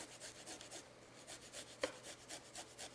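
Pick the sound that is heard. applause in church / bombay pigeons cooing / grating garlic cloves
grating garlic cloves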